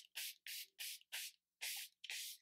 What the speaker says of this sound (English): I'm going to set with a little bit of the Charlotte Tilbury Airbrush Flawless Setting Spray.